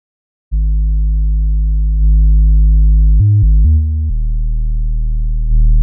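Sustained synth bass notes run through tape emulation plugin presets from the Softube Essentials Bundle, steady clean low tones with a few pitch changes, loud and alone.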